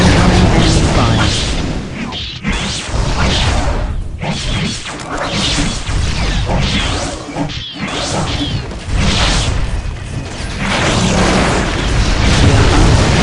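Dense, continuous barrage of booms, crashes and whooshing blasts from enemy fire in the strategy game Warhammer 40,000: Dark Crusade, loud and sustained with only brief dips, under battle chatter and unit voice lines.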